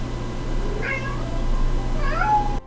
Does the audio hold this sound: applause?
no